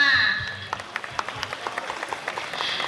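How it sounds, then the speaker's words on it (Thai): A small audience at a ceremony claps scattered and unevenly, fairly close, with speech-like sound heard at the start. "ขอเสียงปรบมือด้วยค่ะ"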